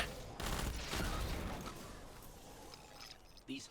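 Gunfire rings out in Destiny 2 as harpies are shot in a set order, a burst of rapid shots at the start that fades into softer mechanical game sounds.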